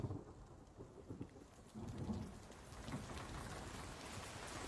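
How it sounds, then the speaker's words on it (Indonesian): Steady rain falls throughout, with low rumbles of thunder rolling underneath, fairly faint and distant; no one speaks. "Tuh kan hujan."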